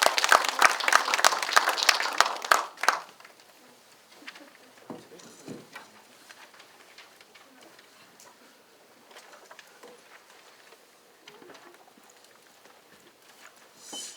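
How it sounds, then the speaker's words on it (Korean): Residents at a redevelopment information session clap warmly to welcome a lecturer, a loud burst of dense applause lasting under three seconds, then quiet room noise with faint shuffling. "오늘 유익한 강의를 해주실 최성훈 강사님을 뜨거운 박수로 환영해 주시기 바랍니다."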